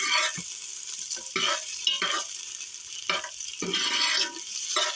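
Onions fry and caramelize in a pot, sizzling steadily while a spoon stirs them in repeated scraping bursts, close and moderately loud, with no talking.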